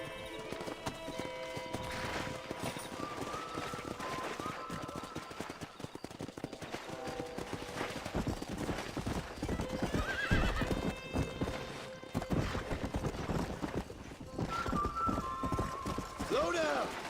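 Horses in a Red Dead Redemption cowboy setting trot and gallop with continual clip-clop hoofbeats, broken by several loud neighs and whinnies, while people talk over the action.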